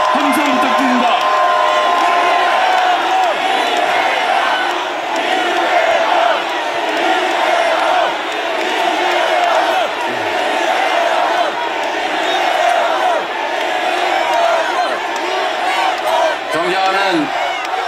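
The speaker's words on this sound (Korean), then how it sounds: "여러분 뜨거운 박수와 함성 부탁드립니다." A large political rally crowd at an emergency protest gathering roars, whoops and cheers continuously and loudly, with scattered shouts rising above the dense crowd noise throughout.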